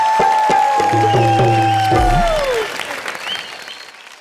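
Studio audience of a Hindi comedy show applauds loudly for Master ji under a brassy musical sting with drum hits, the clapping fading away over the last couple of seconds.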